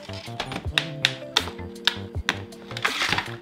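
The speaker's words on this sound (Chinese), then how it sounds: "我们现在先把它拆开来看一下。" A Nerf DS6 Scarab toy blaster being taken apart gives sharp plastic clicks and taps at an irregular pace, close up, with small rattling handling noises between them.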